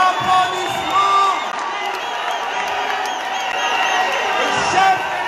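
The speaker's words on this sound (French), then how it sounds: "sous vos applaudissements" A hall crowd at the Docks Eiffel in Paris cheers and whoops in a dense, steady roar for President Félix Tshisekedi, with shouts rising above the din throughout.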